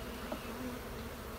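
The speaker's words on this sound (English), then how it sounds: "we've got a whole lot of bees in there" Honeybees buzz in an open hive with a strong northern-raised queen, a dense, steady droning hum from many bees close by, with no talking.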